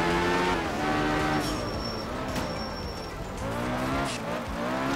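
Rally car engine from the racing game Art of Rally, revving and shifting with high wavering harmonics and a brief tire squeal, steady and loud throughout with no talk.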